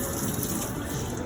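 An ice cream scoop is rinsed under a running tap, a steady gushing splash of water into a sink that holds at a constant level for the short moment.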